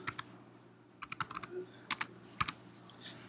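Typing on a computer keyboard: short, close bursts of crisp keystrokes with brief pauses between groups, clear against a quiet room and no talking.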